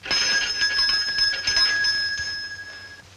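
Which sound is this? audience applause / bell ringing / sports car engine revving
bell ringing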